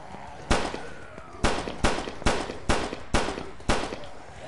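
Gunshots fired at zombies in the horror game Blood Waves, seven loud sharp cracks in a steady, slightly uneven rhythm, each with a short ringing tail, and no talk over them.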